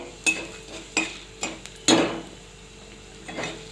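Mung dal hitting hot mustard oil tempered with cumin and bay leaf gives a few short sizzling bursts and stirring scrapes in a pan, spaced about half a second apart, close and moderately loud.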